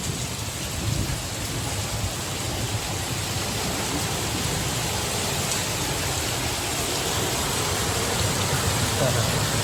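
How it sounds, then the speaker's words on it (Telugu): Heavy rain lashes down in Hyderabad during a storm, a loud, thick, continuous roar of drops hammering surfaces with a low rumbling undertone, close and unbroken, nearly swallowing any voices. "మస్తు కొడుతుంది వర్షం"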